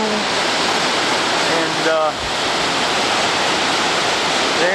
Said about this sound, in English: we've got them sitting up right up above a waterfall coming out of there